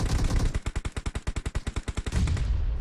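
Rapid automatic gunfire in PUBG Mobile during an all-star esports match, a steady string of about twenty close, loud shots over two seconds, with ambient game noise before and after.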